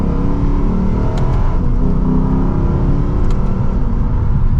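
Engine and exhaust of a Lexus RC F Track Edition heard from inside while driving on the road, a continuous moderate drone with slight rises in revs, no talking.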